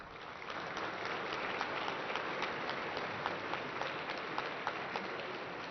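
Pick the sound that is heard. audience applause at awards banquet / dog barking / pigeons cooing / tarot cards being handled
audience applause at awards banquet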